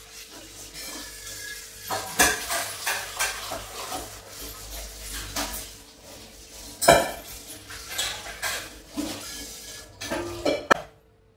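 Metal pots and utensils clink and clatter in a home kitchen while lentils and rice are set to soak for idli batter, sharp knocks scattered irregularly over a steady low background hum, with no talking.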